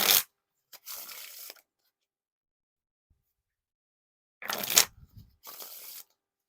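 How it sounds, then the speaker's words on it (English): Two quick bursts of riffle shuffling a Theory11 Jimmy Fallon deck of playing cards, crisp rapid card flutters separated by a long silence, close and fairly loud. "Now for the riffle shuffle or bridge shuffle."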